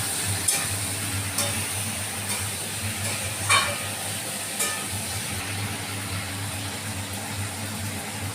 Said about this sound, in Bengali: ভালো করে নেড়ে মিশিয়ে নেব।